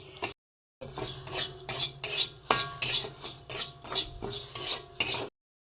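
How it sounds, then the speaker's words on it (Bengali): Moong dal dry roasting in a hot pan with no oil, stirred over and over: rhythmic gritty scraping and rattling of grains against metal, close and fairly even, broken by a short silent gap near the start, no talking. "প্রথমে মুগ ডালটা আমি ভেজে নেবো, শুকনো খোলায় ভেজে নেবো ভালো করে"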